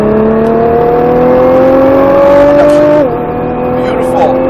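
Nissan GT-R accelerating hard on a race track, a loud close engine note rising steadily through the revs, then a brief dip at a gear change before pulling again, with a voice coaching over it.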